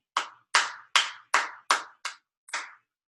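Seven crisp hand claps ring out close and alone, mostly evenly spaced, with a slightly longer pause before the final clap, beating out a short-and-long rhythm in a cello lesson on quarter and eighth notes.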